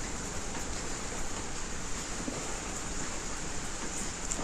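Rain falls steadily at night in a constant, even hiss of dense drops, loud and close with no pauses, and no voices over it.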